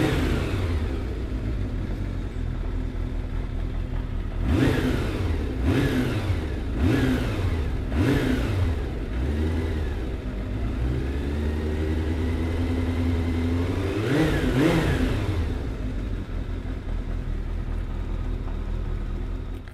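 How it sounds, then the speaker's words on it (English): A restored 1980s Kawasaki GPZ550 motorcycle engine idles steadily up close, then is blipped through four quick throttle revs in a row, settles back to idle, and gives one longer rev near the end. "So let's fire this one up and have a listen."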